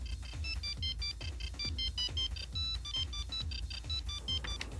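A mobile phone ringtone plays a repeated high electronic melody, with steady short tonal bursts over a low rhythmic backing, loud and close, with no talking.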